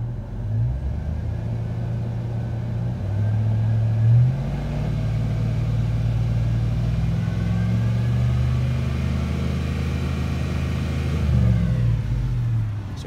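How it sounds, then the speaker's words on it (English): A 5.3L LS engine being tested for low oil pressure revs up from idle and holds at higher rpm, its steady mid-pitched drone rising and easing in broad swells over about thirteen seconds, close and loud with no talking. "What happens when we rev it up?"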